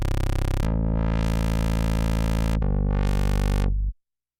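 A loud, buzzy Moog synthesizer holds a sustained rich tone, its filter sweeping closed and open twice, then cuts off into silence.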